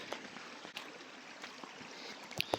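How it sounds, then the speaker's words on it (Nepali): Clear water flows in a stream at a spring in Dang, a soft continuous rushing and trickling with faint splashes, fairly quiet and with no talk. "कति राम्रो, कति सफा कञ्चन पानी बगिरहेछ"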